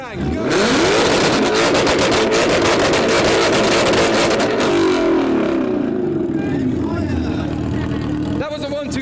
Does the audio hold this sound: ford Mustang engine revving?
yes